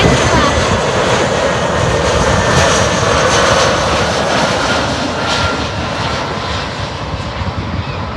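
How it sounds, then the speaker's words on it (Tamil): A passenger jet comes in to land low overhead, its loud continuous engine roar filling the whole stretch steadily and easing only slightly toward the end. "நம்ம தலைக்கு மேலே வந்து ஃப்ளைட் இறங்குறது."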